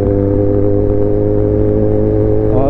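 A Kawasaki ZX10R 1000 cc superbike engine revs loud and close, a steady high-rpm roar with dense harmonics that climbs slightly toward the end.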